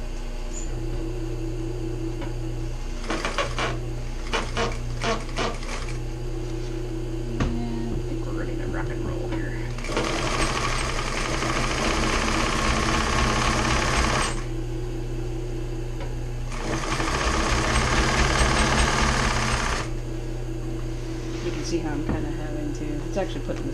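An industrial sewing machine stitches through thick layered material for a bicycle sidecar build, running in two sustained loud bursts over a constant low electrical hum.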